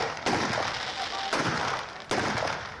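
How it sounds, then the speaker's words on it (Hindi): Sharp celebratory gunshots fired into the air at a wedding ring out outdoors, a few loud reports spaced about a second apart over a busy crowd-like background. "उसका बेटा भी हवा में गोलियां दाग रहा है"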